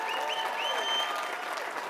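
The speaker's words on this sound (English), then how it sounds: "give yourself a big round of applause." Dense, steady applause from a large conference audience of attendees from many countries, filling the room continuously with a faint voice audible over it.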